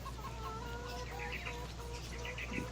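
Chickens cluck in the Farming Simulator 25 farming game, soft and repeated as several scattered hen calls. They sit over a steady low background hum and no one speaks.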